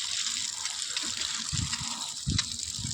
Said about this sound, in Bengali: এই যে জলটা দিচ্ছি, এই দিকটায় জলটা খুবই দিতে হবে এখন